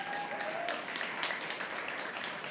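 An audience at a Stop Food Waste Day event bursts into steady, dense applause, many hands clapping together at some distance and holding evenly throughout.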